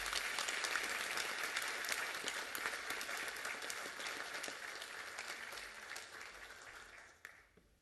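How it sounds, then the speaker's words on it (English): An audience claps for Dr. Jason Allen at Golden Horseshoe Day 2021, a dense sustained round of applause that slowly tapers off over several seconds. "Ladies and gentlemen, one more round of applause for Dr. Jason Allen."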